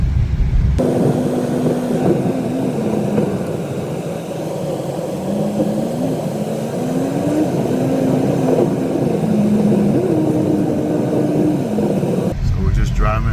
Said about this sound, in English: I'm just taking it on a back road, you know, just driving normally